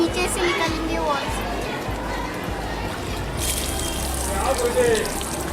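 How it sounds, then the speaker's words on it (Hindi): Dirty water draining from the bottom valve of a homemade non-electric washing machine, a steady close trickle and gush running for several seconds, with someone talking over it. "गंदा पानी नीचे से निकालेंगे"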